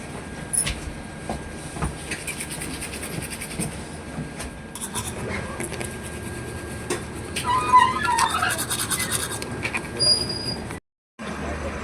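A train pulls into Sangameshwar and halts at a signal, giving a steady low rumble with faint wheel clicks and squeals, while a voice talks over it near the end before a sudden cut.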